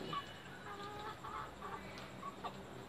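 Chickens kept among dragon fruit and melon plants cluck softly in a series of short, scattered calls at moderate distance, with steady background ambience and no talk.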